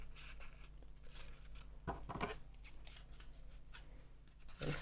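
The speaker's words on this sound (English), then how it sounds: "you can either rotate these and cut through the groove. So you can slip your scissors in there." Scissors snipping through yarn along the groove of a pom pom maker, a few quiet crisp cuts and rustles close by, with a louder burst of snipping near the middle and again at the end.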